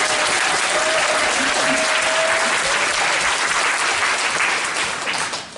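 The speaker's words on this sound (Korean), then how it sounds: "한 번 더 박수를 드릴까요?" A large crowd at a welfare-policy talk concert in the National Assembly members' hall applauds loudly and steadily, a dense wash of clapping that holds for several seconds before starting to thin at the end.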